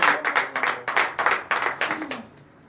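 A morning prayer congregation clapping in acclamation, a close burst of about a dozen sharp, rhythmic hand claps that slows and fades out after a couple of seconds.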